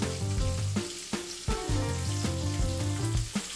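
Roast beef warms in a pan with oil and butter for beef on toast with gravy, a continuous sizzle running under prominent background music with no talking.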